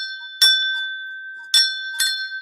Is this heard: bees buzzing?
no